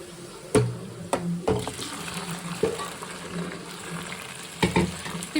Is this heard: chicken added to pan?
yes